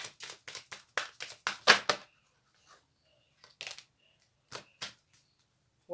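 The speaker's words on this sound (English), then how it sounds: "I'm going to do 3 more shuffles." A deck of cards is shuffled in a quiet room, with a quick burst of riffled flutters followed by scattered soft taps and flicks, close and fairly faint.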